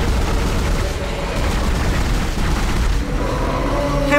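Dense, loud gunfire and booming blasts in the sci-fi horror game Dead Space, a continuous barrage of shots pounding against a creature's glowing weak spot with no pause, filling the whole stretch.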